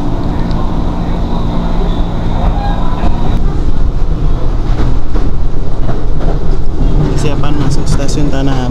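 A KRL commuter train creeps slowly into Tanah Abang station during construction work, heard from inside as a loud continuous rumble with wheel clatter and creaks, while passengers talk nearby.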